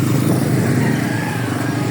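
A jeepney on the Padre Faura route rumbles up a city street near the LRT station, its engine a loud, steady drone close by, with traffic noise around it.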